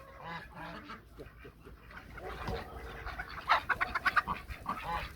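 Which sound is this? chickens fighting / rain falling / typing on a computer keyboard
chickens fighting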